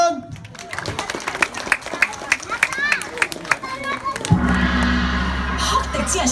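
Audience at a fan dance performance clapping in a loose run of sharp claps, then a sustained wash of applause and crowd noise, with children's voices heard along with it.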